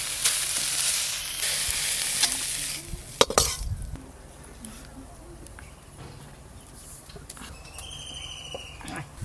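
Drumstick leaves frying in a pan, a hissing sizzle that fades after a few seconds, with a clatter of utensils midway and soft scraping near the end.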